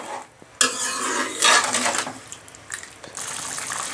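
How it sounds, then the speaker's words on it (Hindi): Sugar being stirred to dissolve in a pot for raw mango chutney, a spoon scraping and swishing through the liquid in several separate close bursts with short pauses between. "चीनी को हम अच्छी तरह घोल लेंगे।"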